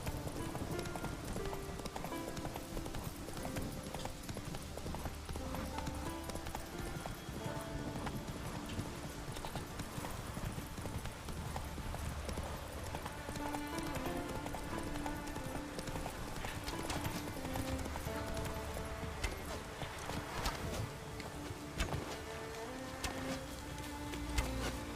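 Horse hooves gallop in a fast, steady clip-clop rhythm throughout The Witcher 3, an action role-playing game. They run continuously alongside other game sounds, with no pause from start to finish.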